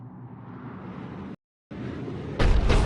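Cerberus cannon firing in Mass Effect 3, a heavy sustained rumbling blast that cuts out briefly, then resumes and swells into a louder booming burst near the end, loud and alone.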